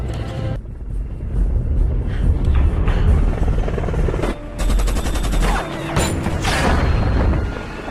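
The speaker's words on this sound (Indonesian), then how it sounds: "berhasil menembak jatuh pesawat heli itu" A loud helicopter drones steadily while bursts of rapid gunfire from a film scene crackle over it, the helicopter shot down, ending in heavy impacts and roaring noise.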